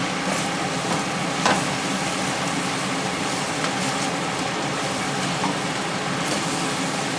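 Lemon pepper chicken karahi with green coriander and leftover ginger sizzles and fries steadily in a pan while being stirred, a continuous close hiss with small scraping accents and no speech.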